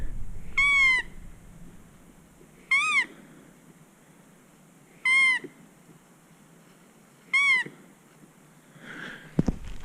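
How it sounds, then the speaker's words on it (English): A foot-operated squirrel squeaker call gives four short, high, wavering squeaks spaced about two seconds apart in a quiet outdoor setting, followed by a faint rustle. "I got my squeaker here,"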